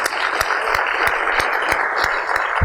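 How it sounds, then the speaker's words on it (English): A large audience gives a standing ovation at a startup storytelling event, with dense, steady clapping close by for the whole stretch and no pauses. "What we have is a big round of standing applause"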